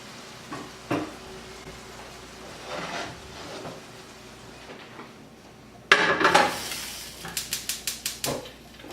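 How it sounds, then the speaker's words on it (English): Cooked ground beef being drained of grease from a pan in a home kitchen, with scattered scrapes and clanks of metal cookware, then a louder burst of clattering and a quick run of sharp taps near the end. "So what I'm going to do now is turn off my burner and go drain the hamburger."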